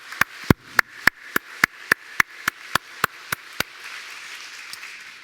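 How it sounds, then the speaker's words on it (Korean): A few sharp, evenly spaced claps ring out in a church service honoring the elders, about a dozen loud, crisp hand claps in a steady rhythm that stop abruptly, leaving a faint room murmur. "우리 축복의 박수 한번 내드리겠습니다"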